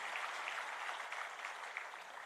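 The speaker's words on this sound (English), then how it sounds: "A thunderous round of applause for Dancity, please." Steady applause from an audience for the Dancity dance group at an alumni reunion event in a Kochi pavilion, a dense, even wash of many hands clapping at a moderate distance with no talk over it.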